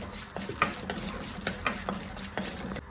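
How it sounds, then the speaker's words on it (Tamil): Curry leaves, peanuts and a pinch of asafoetida are dry-roasted in a pan with a spoon, giving a soft steady rustle and crackle broken by light scraping and clinks of the utensil. "இதெல்லாம் நல்லா சேர்த்து வறுத்துட்டு"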